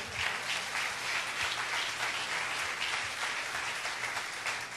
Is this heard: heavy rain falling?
no